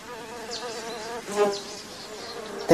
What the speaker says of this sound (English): This big fat bee is a bumblebee. It is quite big and round, and it makes a loud buzzing sound.